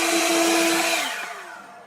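A WorX 40V cordless yard blower runs with a steady, loud whine and airy rush that holds for about a second, then eases down and fades as it spins off.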